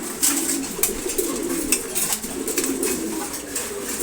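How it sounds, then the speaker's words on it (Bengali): Khaki and chila pigeons coo while eating, low throaty murmurs rising and falling in several overlapping phrases, close by, mixed with light pecking clicks and rustling. "এখানে আছে খাকি কবুতর আর চিলা কবুতর"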